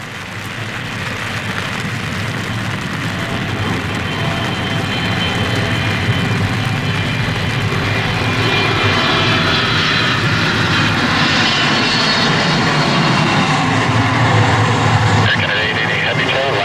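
A Turkish Airlines Boeing 777-300 landing in heavy rain at Toronto Pearson, with a loud, sustained jet engine roar that swells gradually over a constant hiss of rain.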